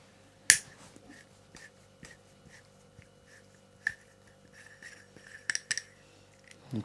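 A chain cutter snaps through a SRAM Eagle bicycle chain in one sharp crack near the start, then a few smaller metallic clicks and taps follow as the tool and chain are handled.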